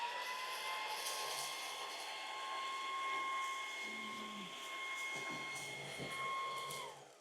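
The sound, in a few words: Jigoo V700 cordless vacuum cleaner on max mode sucking up dust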